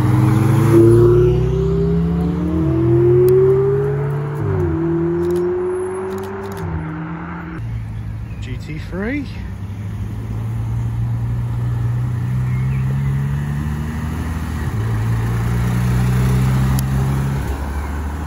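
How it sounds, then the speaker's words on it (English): Several supercars and hypercars arriving at a car meet rumble loudly at close range as they reverse and manoeuvre around a roundabout, engines droning and shifting pitch with occasional revs. "We've got supercars reversing around the roundabout."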